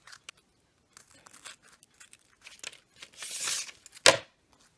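Ribbon being trimmed for fabric earrings, with soft scattered snips and rustles of fabric, then a brief sharp cutting sound near the end, all quiet and close.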